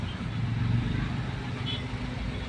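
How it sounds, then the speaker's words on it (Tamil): Steady rumble of a heavy traffic jam on a main road between Bommasandra and Hosur, with engines and passing vehicles blending into a continuous dense drone. "இங்கே எல்லாம் ஃபுல்லாக டிராஃபிக் ஆகுது."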